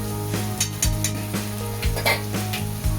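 Tomatoes and turmeric dropped into hot oil for a Marathi-style ridge gourd (dodka) bhaji, a loud close sizzle with spoon scrapes and taps against the pan in an uneven rhythm.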